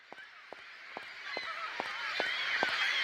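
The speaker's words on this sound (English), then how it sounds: "Wow, lots of loud birds up in this joint." Loud goose-like honking birds screech repeatedly in Syberia, seven or so sharp calls spaced at a steady rhythm over a dense chorus of chirping and cawing that swells toward the end.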